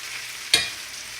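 Potato patties frying in a non-stick skillet give a steady, close hiss of hot oil, broken by one brief louder scrape or sizzle burst as a patty is turned.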